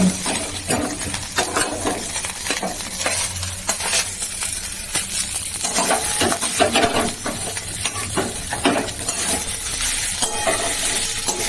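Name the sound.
potatoes and green chili frying in oil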